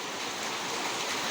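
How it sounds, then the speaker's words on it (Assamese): Heavy rain falls outside and water collects in a courtyard, making a dense, steady hiss-and-roar that holds evenly throughout. "বাহিৰত পূৰা বৰষুণ"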